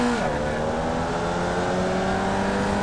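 Formula Vee race car in the iRacing sim at Oulton Park, engine droning steadily at part throttle as it climbs through the gears off the start, pitch rising then holding, loud and continuous.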